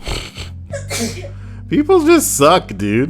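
A single quick sneeze bursts out between stretches of casual conversation, close and fairly loud, with people talking before and after it.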